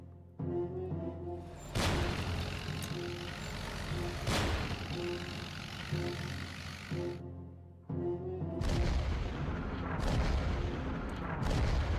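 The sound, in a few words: bombing in the Hex of Steel video game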